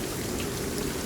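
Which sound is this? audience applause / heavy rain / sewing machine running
heavy rain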